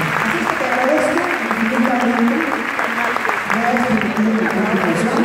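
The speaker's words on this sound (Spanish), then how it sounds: "Un aplauso para Sergio." Audience applause at a televised event recalling the OTI song festival, a dense, steady clapping that stays loud and close throughout.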